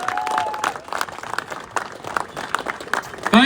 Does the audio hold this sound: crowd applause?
yes